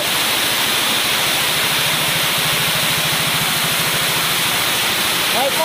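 Heavy rain hissing steadily and loudly around a motorbike being ridden through a downpour, with the engine's low, rapid putter running underneath and a brief chirp at the very end.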